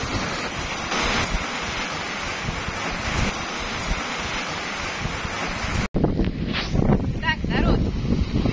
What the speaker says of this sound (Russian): Северный ледовитый океан.